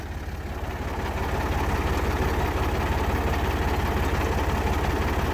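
A tractor engine idles close by with a loud, steady low throb and a fast even pulse. The rumble rises slightly after the first second, then holds constant, with no voices over it.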